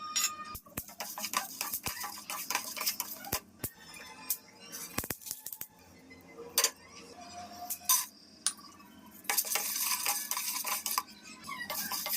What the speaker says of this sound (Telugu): ఇలానే మిగిలిన సీడ్స్ని కూడా ఫ్రై చేసుకోవాలి.